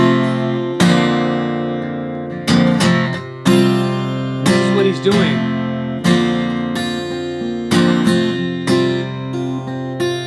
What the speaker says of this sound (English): this is what it sounds like in open D